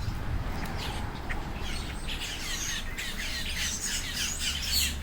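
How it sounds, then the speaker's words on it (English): Birds squawk and chirp at Everglades Safari Park, repeated harsh calls layered over a constant low hum, moderately distant and with no talking. "if you like birds, plenty of birds."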